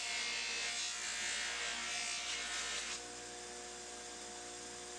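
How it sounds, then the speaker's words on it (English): A buffing wheel polishes a hybrid knife handle, giving a steady close whirring buzz that runs loud for about three seconds, then drops to a quieter motor hum as the piece eases off the wheel. "A little bit more buffing on the buffing wheel."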